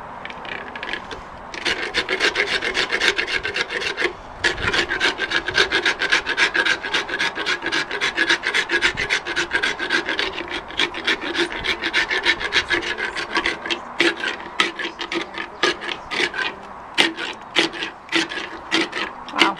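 Steady, repeated rasping strokes of a file grinding down a horse's teeth, loud and continuous with a brief pause early on, no talking.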